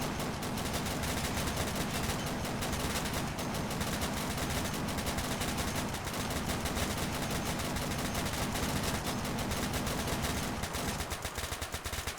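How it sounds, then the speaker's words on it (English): A .50 caliber machine gun in a zombie video game fires in a dense, unbroken stream of loud, rapid bursts that continue almost without pause, with a brief break near the end. "I think this 50 caliber machine gun is going to do the job"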